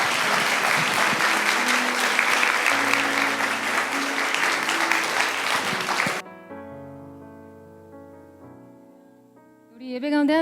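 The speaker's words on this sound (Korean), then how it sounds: "우리 큰 박수로 격려와 환영의 박수 드리도록 하겠습니다." A church youth congregation claps loudly to welcome the pastor, a dense continuous round of applause that stops abruptly, followed by quiet sustained keyboard chords and a short swell of sound at the end.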